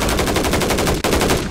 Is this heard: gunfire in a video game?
yes